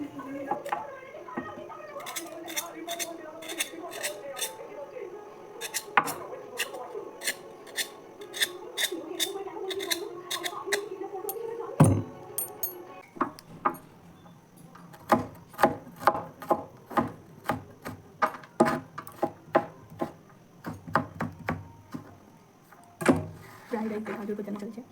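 Bananas and pointed gourd are cut for frying in a home kitchen, producing a run of sharp, irregular knife chops that grow denser later, close by, with talk and household background in the first half.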